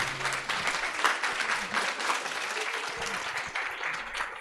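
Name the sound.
applause from the audience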